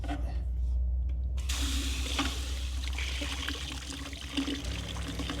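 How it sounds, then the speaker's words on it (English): Hot water sprays from a shower head attached to an AC/DC van water heater into a bucket, a steady, close, hissing rush that runs for several seconds without a break. "I can just spray that into this bucket"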